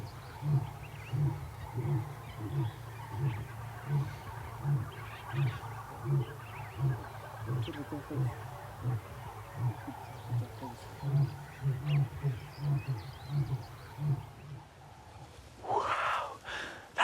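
An uncollared male lion roars in the wild, a long series of deep, rhythmic grunting calls pulsing steadily at close to middle distance, with a brief louder burst near the end.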